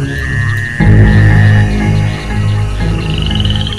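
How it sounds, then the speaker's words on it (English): Frogs croak loudly at night in the wild, with a dense, continuous chorus of low croaks and a higher trilling call layered above, close and unbroken throughout. "The sound of frogs fills the night."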